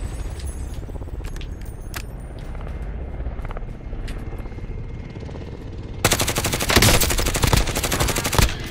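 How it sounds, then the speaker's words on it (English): Supply helicopters in Call of Duty Warzone, a steady rotor drone under game noise, with a burst of loud gunfire breaking in over the final few seconds. "Supply choppers again."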